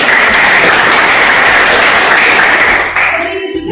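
Applause from students in a high school classroom, a dense burst of clapping that stays loud and steady before thinning out and fading near the end.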